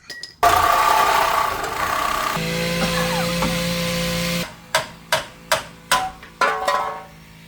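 Metal parts on a Geo Tracker axle being ground down: a loud angle grinder whines steadily for several seconds, its pitch shifting midway, then stops and is followed by a series of sharp metallic knocks in a loose rhythm.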